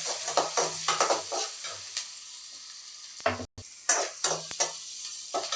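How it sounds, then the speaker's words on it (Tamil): Onions sizzle in hot oil in a pan with curry leaves and salt for a brinjal masala, with repeated spoon stirs and scrapes, a brief pause, then more close, loud sizzling and stirring. "வெங்காயம் போட்டு நல்லா வதக்கி விட்டுடலாம்"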